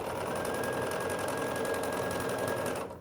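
Electric sewing machine stitching quilt block pieces for an X block, a steady close mechanical whir that runs unbroken for nearly three seconds and then winds down as the stitching stops.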